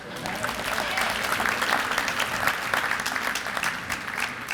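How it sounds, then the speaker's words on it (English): A crowd applauds at a city beautification commission kick-off event, steady and full clapping from many people in a large gathering, sustained evenly throughout. "The junior commissioners deserve a round of applause too."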